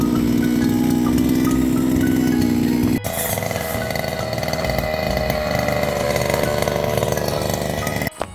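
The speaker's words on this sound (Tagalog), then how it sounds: "kaya kailangan namin gumamit ng grass cutter" A grass cutter runs loud and steady at close range in a rural field, its engine holding a constant buzzing drone with a brief dip in pitch partway through and no talk over it.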